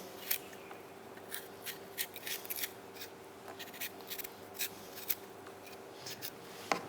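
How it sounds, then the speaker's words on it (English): Carrots being peeled by hand, a quiet series of short, irregular scraping strokes close up, each a crisp rasp with small gaps between, no talk. "So get your carrots, peel them."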